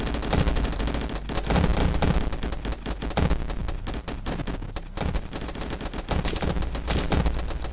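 Rapid rifle fire in the video game Yawnoc, a dense run of loud overlapping shots with barely a break, steady and close throughout the whole stretch.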